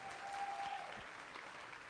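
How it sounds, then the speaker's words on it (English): A debate audience claps along, a faint, steady wash of many hands heard from a distance, continuous and even throughout. "Come on, clap your hands, clap your hands,"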